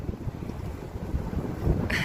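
Strong wind buffets the microphone outdoors in a low, gusty rumble that rises and falls, with a louder blast near the end.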